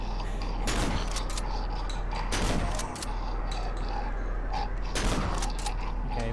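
Gunfire aimed at a monster in the Cry of Fear horror video game: sharp, loud shots cracking at uneven intervals over a steady low rumble, with no voices.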